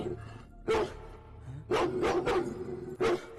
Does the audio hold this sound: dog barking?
yes